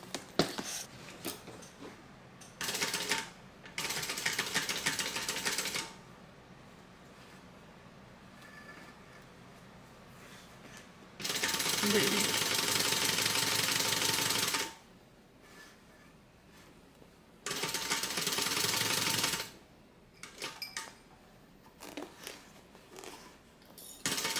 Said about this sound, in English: We're going to stitch it and then we'll stitch the pocket closed.